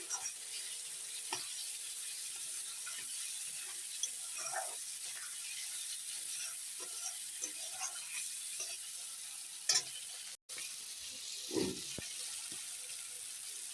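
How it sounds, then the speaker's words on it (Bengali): Spices stirred and fried in a pan for a fish curry, a low, even sizzle with intermittent spoon scrapes and clinks, a louder clatter near the end, quiet and close with no talking. "সব মশলা ভালো করে কষানো হয়ে গেছে আমি এবার জল দিয়ে দেব ভালো করে নেড়ে নিলাম"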